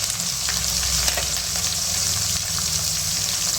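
Carrots tumble into a pan of mixed vegetables frying for a festive mixed bhaji, giving a steady close hiss of sizzling oil with soft stirring scrapes throughout.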